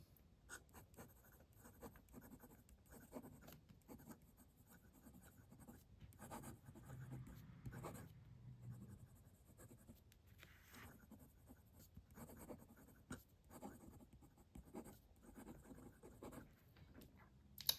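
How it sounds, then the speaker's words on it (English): A Majohn P140 fountain pen nib scratches across paper in soft, irregular strokes, faint and close, with short pauses between words and no speech. "Let's do some writing."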